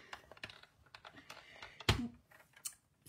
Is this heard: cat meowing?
no